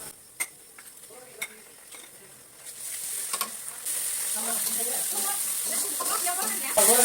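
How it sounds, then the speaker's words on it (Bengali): Cumin paste going into a pan for a vegetarian curry, first sparse clinks and scrapes, then a loud hiss that swells and holds as a steady, close sizzle with bubbling pops, and a voice heard faintly underneath. "এখন জিরা বাটা দিয়ে দিচ্ছি"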